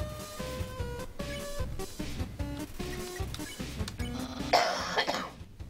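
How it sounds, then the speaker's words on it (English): A person coughs repeatedly in rough, uneven bursts, fairly close but not loud. "I have a really bad cough."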